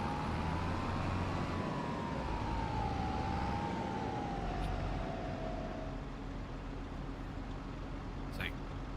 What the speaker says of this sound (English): It sounds like an electric tractor.